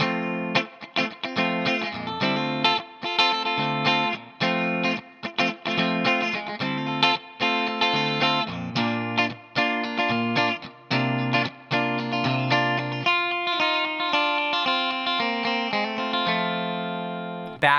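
Electric guitar playing the verse of a song, a steady rhythmic stream of chords and single notes through effects with distortion and chorus, loud and close throughout with no talking.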